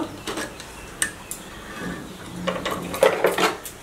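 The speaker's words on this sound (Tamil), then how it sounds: "கீழே பாபின் எடுத்துக்கிறோம்." Bobbin taken out from underneath a tailoring sewing machine: a series of close, light metallic clicks and taps, irregularly spaced, with a small rattling cluster near the end and no talking.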